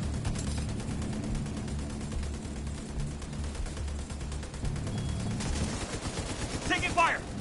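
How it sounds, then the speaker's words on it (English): Rapid, sustained video-game gunfire with repeated shots and bursts, steady and fairly loud throughout, with voices briefly talking over it. "Taking fire. Taking heavy fire."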